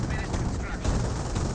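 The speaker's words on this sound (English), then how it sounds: "now receive some fire from these T-17s" T-17 armored car machine-gun fire in Company of Heroes, a dense, steady rattle of automatic shots blended with battlefield rumble, loud and continuous throughout.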